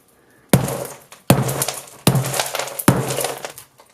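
Four heavy, close smashing blows land about every 0.8 seconds on an expanding sponge ball with an iPhone 6S inside, each a sharp crashing impact with a brief crunchy rattle after it.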